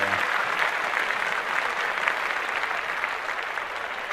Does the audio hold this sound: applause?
yes